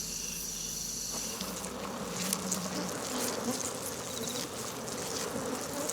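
Wasps buzzing close by around their paper nest built from chewed wood pulp, a steady droning hum of several insects with wingbeats rising and fading as they move.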